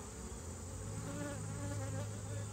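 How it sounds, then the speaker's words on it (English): Dense, steady buzzing of many honeybees close by, a continuous low drone with no voices. "Lots of bees,"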